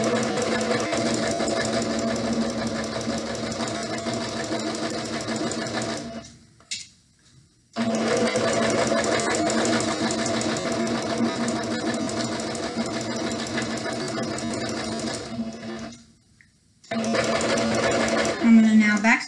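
A sewing machine stitches a pillowcase seam in two long steady runs, broken by a short pause and a near-silent stop before it starts again, loud and close.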